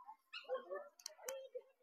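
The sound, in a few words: Indian wild dogs calling at zoo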